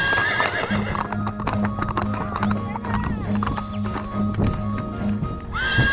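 Malaysian police mounted-unit horses clip-clop steadily in a regular rhythm on hard ground, with a loud whinny near the end and voices murmuring in the background.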